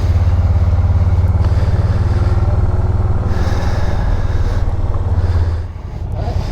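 A 2009 GS SE5 on a fast test ride after a brake flush gives a loud, close, deep engine rumble that holds steady, then eases off near the end as it slows.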